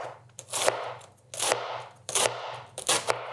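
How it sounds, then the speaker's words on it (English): A knife chops a green cabbage into shreds on a cutting board, sounding as four loud, crisp crunching strokes at an even rhythm, close up with no talk. "Putting the flat side down, I'm simply going to cut it into shreds."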